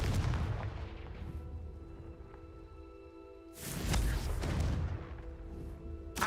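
Confringo spell explosions in the Hogwarts Legacy video game land as two fairly quiet booming blasts, one at the start and another about halfway through, with a low rumble between them.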